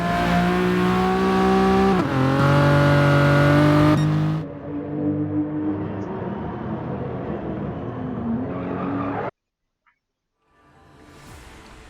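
Race car engines in the Rallycross GT video game, N300 Classics event, loud revving with rising and falling engine tones, easing to a steadier drone before cutting out and faintly returning.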